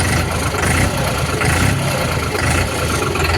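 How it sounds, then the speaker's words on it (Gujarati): A New Holland 3230 45 HP 4x4 tractor with a Fiat Powertrain (FPT) engine and a new exhaust pipe runs loud and close, its engine roaring steadily as it is revved. "નવો એક્ઝોસ્ટ પાઇપને આવી ગયો ને એમાં ટ્રેક્ટર થોડુંક સાયલેન્ટ થઈ ગયું અને સાઉન્ડમાં નાનકડું ઇન્હેન્સમેન્ટ આવી ગયું"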